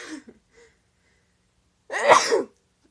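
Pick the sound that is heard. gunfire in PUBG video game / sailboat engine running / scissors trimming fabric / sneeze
sneeze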